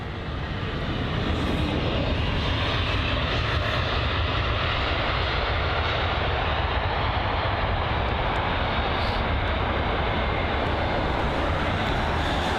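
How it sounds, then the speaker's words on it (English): An Airbus A319 at London Heathrow Airport gives a steady, loud engine roar that holds from start to finish with no break and no voices. "There is the A319."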